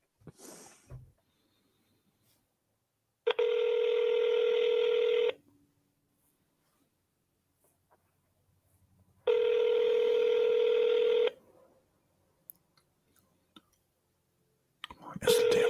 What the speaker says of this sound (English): Come on, answer the damn phone.